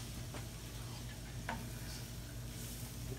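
Pork stirred in a hot pan gives a soft, steady sizzle with a few scraping spoon strokes, close and fairly quiet.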